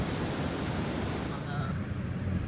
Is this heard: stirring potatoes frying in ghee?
no